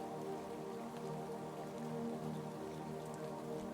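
Rain falling on a lake surface, a soft, even patter with a low steady wash, faint and continuous with no voices.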